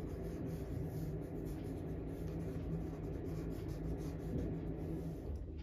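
A pen scratches across paper in a close, faint, continuous rubbing stroke that runs steadily with no pauses and no talk.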